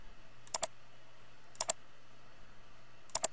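Three separate mouse clicks, each a quick crisp double tick, spaced about a second apart over a faint steady hum while OK is clicked in Microsoft Publisher.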